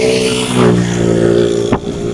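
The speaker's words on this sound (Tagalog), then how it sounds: "So umalis na yung truck ko, yun na." A loaded truck that has just delivered wooden building materials for a house pulls away, its engine droning steadily with a brief rise in revs midway and a sharp scrape near the end, close and loud with no talk.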